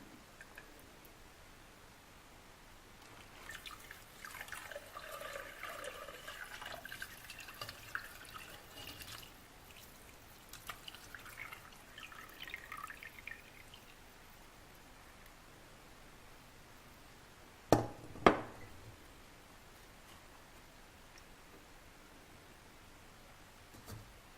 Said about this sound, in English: I'll dump the rest through a strainer